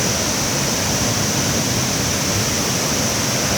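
Roaring waterfall at Tad Tham Champi in Laos, approached on a raft: a loud, steady, dense rush of falling water filling the whole sound without a break, with no voices.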